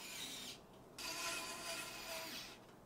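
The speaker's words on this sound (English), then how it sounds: "Now, using these screws right here, you can screw in the motherboard." A screwdriver drives motherboard screws into a gaming PC case, making two close bursts of dry ratcheting, rasping clicks separated by a short pause.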